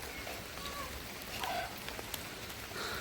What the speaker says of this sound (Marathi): आणि इकडे पाऊस बऱ्यापैकी आज लागला.